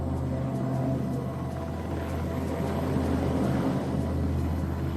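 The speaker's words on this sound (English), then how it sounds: "As the engine spins the rotor blades, it also tries to spin the entire body of the helicopter in the opposite direction." A helicopter engine spinning the main rotor blades, giving a steady, continuous low drone with constant mechanical hum and faint rhythmic thumping, close and unbroken throughout.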